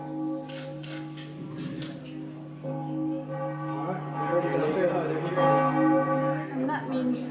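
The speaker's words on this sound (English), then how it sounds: "This is the bell. You're going to ring it." Large bell rung at a ceremony for a new class member, its resonant tolling strokes ringing out repeatedly with long sustained overtones, swelling louder toward the end.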